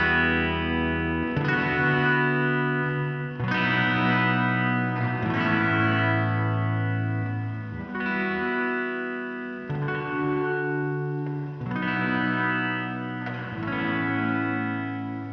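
Electric guitar played through a Line 6 HX Stomp gated nonlinear reverb, distorted chords ringing in bursts that swell with ambience and then cut off abruptly between phrases.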